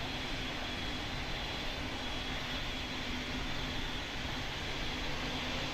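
An airliner in Pilot Training Flight Simulator rumbles on its takeoff roll, a steady, broad jet-engine roar that holds at an even, moderate level without pauses.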